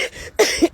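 A person coughs twice in quick succession, short sharp bursts heard alone and fairly close.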